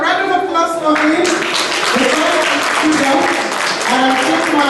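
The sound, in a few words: applause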